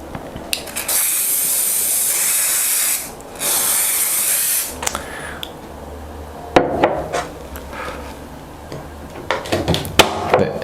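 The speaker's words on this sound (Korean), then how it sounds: "제가 이 밴딩 스프레이를 어, 파이프에 도포를 해서 한번 작업을 해보도록 할게요." Bending spray hissing out of an aerosol can onto a metal pipe before bending with a Rems Curvo 40 bender, two long loud bursts with a short break, then clicks and handling knocks.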